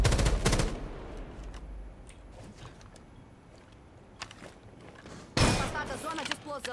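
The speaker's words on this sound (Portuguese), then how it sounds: "Você tem que atirar rajadas mais curtas de ACOG" Short automatic rifle bursts with an ACOG sight in Rainbow Six Siege, loud cracks at the start and again near the end with quieter game ambience between.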